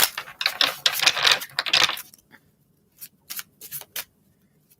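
Tarot cards shuffled by hand, a dense burst of riffling and flapping card noise followed by quieter short separate snaps and taps against silence.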